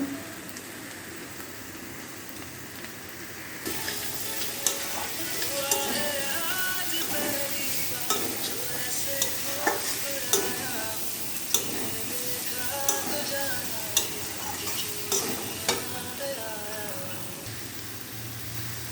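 Potatoes and vegetables sautéing in a pan for a Bengali potato curry, a steady crackling sizzle with repeated sharp clicks and scrapes as the food is stirred, continuous throughout with no talking.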